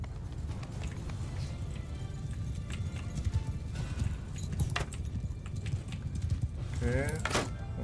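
Hooves of many horses clatter in a rapid, continuous clip-clop during a Mount & Blade II: Bannerlord battle against bandits, with jangling, thuds and an occasional whinny over a low rumble.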